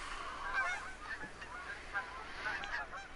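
Several geese in the hunting video game Call of the Wild honk repeatedly over a soft outdoor ambience, the calls overlapping at a moderate distance.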